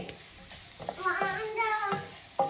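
Onion roast for vellappam fries in a pan with a soft sizzle, heard close and under a child's and adults' chatter.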